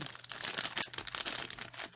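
A small yellow plastic bag holding a phone case crinkles up close in rapid, irregular bursts of rustling.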